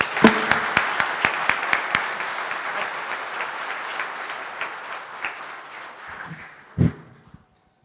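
An indoor audience at the close of a talk at an event on geopolitical risks breaks into applause, opening with a few sharp claps, swelling into steady clapping that tapers off, then a final thump and silence.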